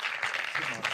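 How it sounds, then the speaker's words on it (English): A live conference audience applauds speakers walking onstage at a festival talk, a dense steady wash of clapping lasting about a second with a faint voice mixed in. "Please give a warm round of applause to Ihad Madish and Nico."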